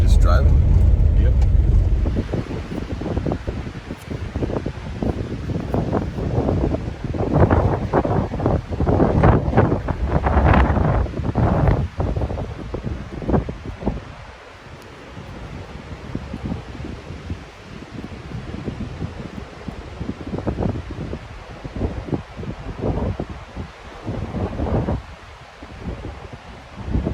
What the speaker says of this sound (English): just driving on a road, just driving.